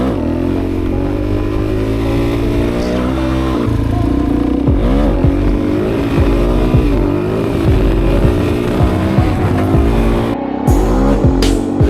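Suzuki DRZ400SM supermoto single-cylinder engine idling and blipping up close, a steady rough thrum broken by several short rev rises and falls, with no talk.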